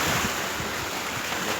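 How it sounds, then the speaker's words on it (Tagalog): Strong sea waves surge and rush at Dammam Corniche, a dense, loud roar of surf heavily buffeted by wind noise on the microphone. "Malakas ang alon."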